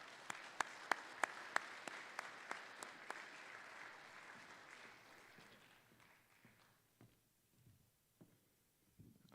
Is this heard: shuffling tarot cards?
no